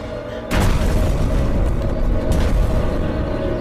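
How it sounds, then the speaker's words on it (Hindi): A movie explosion at a deep drilling site: a sudden loud boom bursts in and settles into a dense, sustained low rumble, heard close with no voices. "लेकिन ये एक्सप्लोजन जैसा था।"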